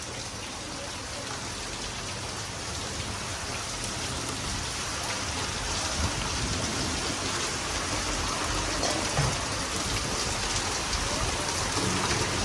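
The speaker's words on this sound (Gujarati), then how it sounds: "છે માર વરસાદ હવે આ આખી સિઝનનો પહેલી વાર આટલું પડ્યું વરસાદ" Heavy rain pours steadily in a village during a thunderstorm, a dense continuous hiss of drops on surfaces that builds slightly over time, with low rumbles underneath.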